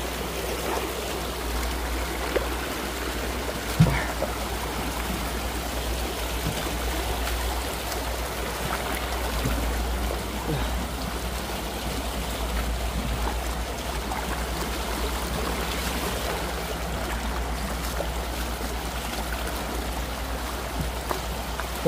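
A mountain stream runs along a soft, earthy bank, a steady, even rush of flowing water with no pauses, close and continuous.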